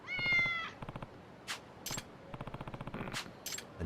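Several cats meowing in the video game Lost Judgment, a group of kitties giving short repeated mews and chirps in quick bursts, with sharp game clicks and effects between them and no talk.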